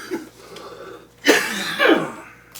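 A couple of harsh, raspy coughs burst out close by, each a rough exhale followed by a strained, wheezy tail.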